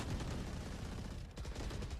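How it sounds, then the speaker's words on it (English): Gunfire traded back and forth in a Valorant match at VCT Ascension Americas, rapid overlapping bursts of shots at moderate distance, fairly quiet and continuous, with no speech. "A lot of bullets being traded back and forth"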